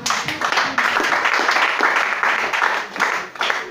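A church congregation claps and applauds during a worship service, a steady dense wash of hand claps with cheering voices mixed in, loud and close throughout.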